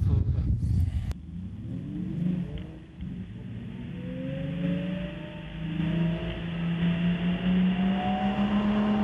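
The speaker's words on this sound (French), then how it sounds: "tu lâches tout et accélère" A car accelerating hard on a race track, its engine note climbing steadily in pitch through several rising sweeps, loud and close, after a brief burst of noise at the start; a voice is faintly present.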